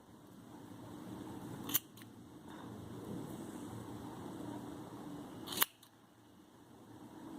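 Scissors cut knitting wool yarn in two crisp, close snips several seconds apart. Quiet room hiss fills the gaps.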